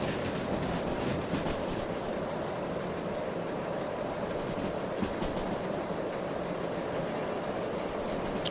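Steel train wheels grinding against the rails as a locomotive pushes uphill in the Derail Valley railway simulator, a continuous loud rumble and clatter with a thin high squeal running over it throughout.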